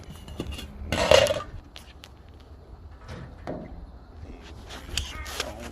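A skull dunked into a pot of water to simmer, with a loud metallic clank and splash near the start, then softer knocks and pot handling sounds.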